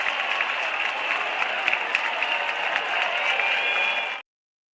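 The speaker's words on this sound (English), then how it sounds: "Then you hear the cheering when the call's reversed" Dense, loud baseball crowd cheering and clapping after a reversed challenge call leading to a walk-off, a continuous roar of many voices and hands that cuts off abruptly near the end.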